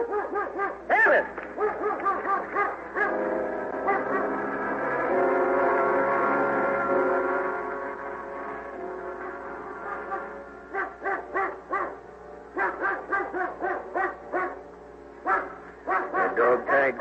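A dog in a wilderness scene of an old radio drama barks and whimpers repeatedly in clipped, rhythmic bursts, with a sustained whining stretch in the middle, fairly close and loud throughout.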